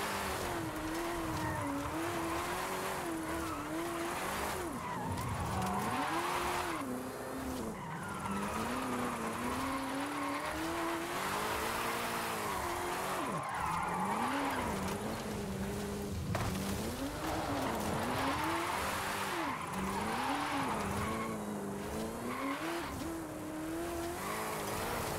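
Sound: 2015 Mustang GT drifting down a mountain road

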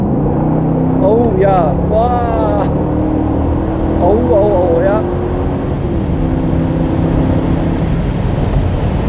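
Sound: BMW Z8 Alpina roadster (2003) engine accelerating while driving

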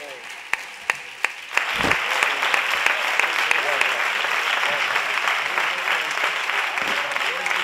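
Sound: audience applause at a flamenco concert

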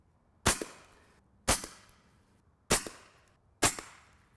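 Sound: AirForce TalonP suppressed air rifle shooting a pineapple

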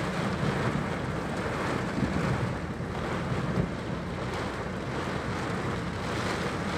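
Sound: thunderstorm with heavy unseasonal rain and thunder

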